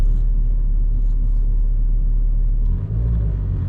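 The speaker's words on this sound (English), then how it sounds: "right now it's just running idle" A Mazda 3 Sport engine idles steadily, a low continuous rumble close by, with a small dip in level near the end and no talking.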